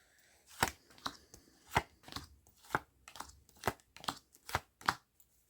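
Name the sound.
shuffling tarot cards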